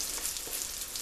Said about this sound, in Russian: пусть они свободненько себе жарятся